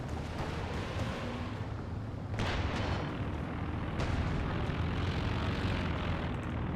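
Aircraft engines drone in over a Company of Heroes 2 battlefield on a supply-drop run, a loud continuous roar swelling in waves, mixed with distant booms of combat.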